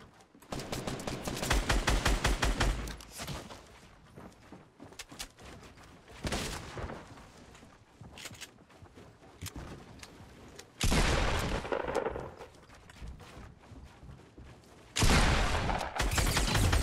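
Pump shotgun and other gunfire in the Fortnite video game: a rapid burst of shots at the start, then scattered single blasts and two loud, heavy bursts later, close and sharp.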